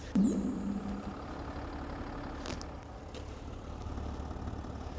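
Steady low rumble of a diesel SUV engine idling nearby, a Mercedes GLS 400d or BMW X7, with a brief squeak at the start and a couple of faint clicks.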